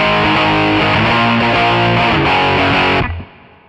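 Heavily distorted electric guitar through a Mark III amp simulator chugs a pop punk chord riff, loud and saturated, then cuts off and rings out briefly.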